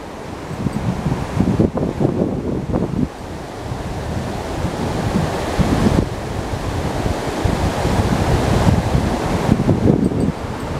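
Wind blowing outdoors on the water while fishing for longnose gar, a steady roar of gusts and buffeting against the microphone with surges and lulls, loud and continuous, no voices.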